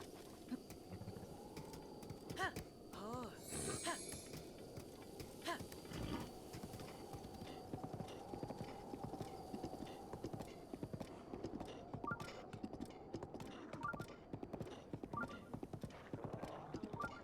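Steady clip-clop of a horse's hooves in Zelda: Breath of the Wild, trotting at an even rhythm for the whole stretch over a busy bed of game ambience.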